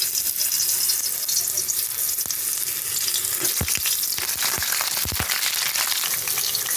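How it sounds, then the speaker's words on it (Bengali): Potatoes fry in white oil in a kadai on a gas stove, giving a loud, continuous sizzle with scattered crackles and pops and occasional stirring clinks, close up and without talking. "আলুগুলো এখন ভেজে নেব আমি।"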